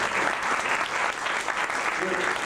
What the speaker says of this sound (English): Let's have a nice round of applause for this.